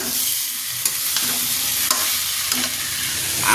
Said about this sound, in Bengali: আর এসবটা হচ্ছে কষা হচ্ছে